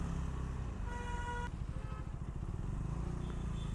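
A KTM 390 Duke motorcycle engine rumbles close and loud, with a quick rising blip of revs partway through as the rider rev-matches on a downshift.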